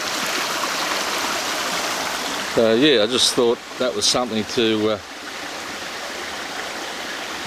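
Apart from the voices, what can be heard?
creek water flowing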